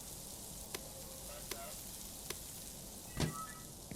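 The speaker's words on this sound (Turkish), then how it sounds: "ben köfteleri kızartmakla başlıyorum" Meat patties fry on a griddle in Fast Food Simulator, a faint, steady sizzle with a few sharp clicks and ticks scattered on top, no talking over it.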